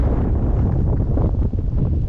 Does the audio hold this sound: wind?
yes